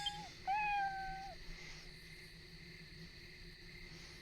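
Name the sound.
cat meowing when petted in a video game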